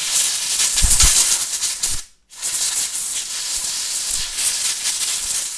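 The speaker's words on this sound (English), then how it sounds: "So, compressed air." Compressed air blasts onto the sensors and circuit board of an HP OfficeJet 6600/6700 printer during a repair, a loud steady hiss that cuts out briefly before resuming for several more seconds.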